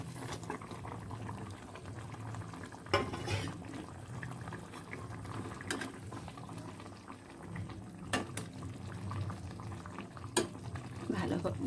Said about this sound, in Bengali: ঝোলটা বেশ ভালো মতন ফুটে উঠেছে।